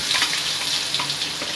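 Garlic paste and curry leaves frying in hot oil, a dense, steady sizzle with crackling bursts, close and loud, no voices.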